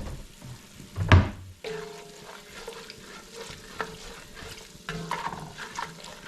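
Ingredients for Puerto Rican rice with pigeon peas sautéing in a pot: a loud clatter and thump early on, then steady sizzling with repeated stirring scrapes and utensil knocks.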